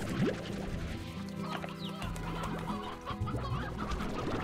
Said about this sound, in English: did I just hear a chicken or something?